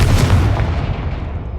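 Explosive Confringo spell cast in the video game Hogwarts Legacy: a single loud, deep booming blast that rolls and fades over about a second and a half, with no talking.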